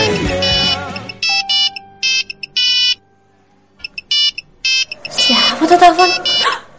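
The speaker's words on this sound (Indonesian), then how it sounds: "Apa tuh telepon?" A telephone rings in repeated electronic bursts with short gaps, loud and close, followed by a stretch of quiet and then people talking over further rings.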